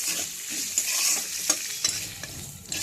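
Chopped almonds, cashews and raisins fry in a little oil in a pan while being stirred, giving a steady close sizzle with scattered scraping and clinking of the spoon.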